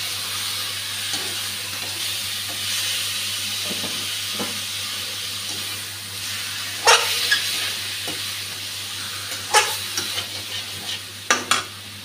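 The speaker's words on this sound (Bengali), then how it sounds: "এখন কোয়াশ কুড়ানো ভাজাটা দিয়ে দিচ্ছি।" Fried squash scrapings tossed into a pan of spiced oil hiss with a steady, moderate sizzle, broken by scraping stirs and a few sharp clacks of a spoon against the pan.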